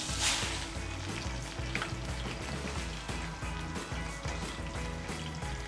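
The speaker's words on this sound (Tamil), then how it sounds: "எண்ணெய் காஞ்ச உடனே நம்ம ஆனியன் போட்டு பொறிச்சு எடுத்து" Onion frying in hot oil, a dense, steady crackling sizzle with a low rhythmic bubbling pulse, close and uninterrupted.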